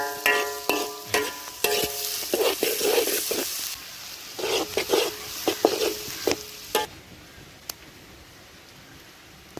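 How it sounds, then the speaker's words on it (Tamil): Onions frying and being stirred in hot oil for biryani, a crackling sizzle broken by scraping stirs of the spoon through the pan, loud at first and then quieter and sparser toward the end. "இன்னும் கொஞ்சம் வந்து டார்க் ப்ரௌனாக வரதுக்கு நம்ம வந்து கிண்டிட்டு இருக்கலாம்."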